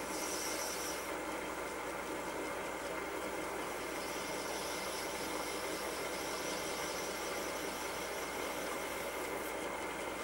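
A wood lathe turning a pen blank slowly, at about 300 RPM, gives a continuous, dense mechanical drone with a steady whirring hum and a faint rattle, constant in level throughout and with no talking.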